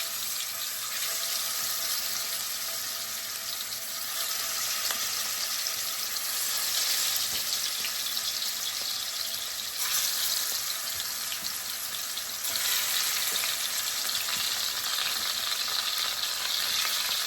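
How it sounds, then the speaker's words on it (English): Oxtails fry in a skillet with a loud, continuous hiss and crackle, close and unbroken for over fifteen seconds. Occasional small clinks sound over the sizzle, and there is no talk. "And we'll let that fry."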